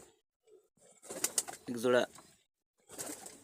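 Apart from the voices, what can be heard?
Teddy pigeons cooing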